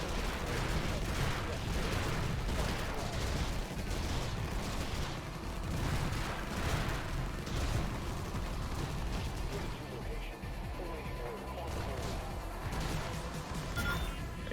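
Sustained rapid gunfire and artillery-like blasts fill the battle in Infested Planet, a dense, loud barrage continuing almost unbroken, with a voice talking over it.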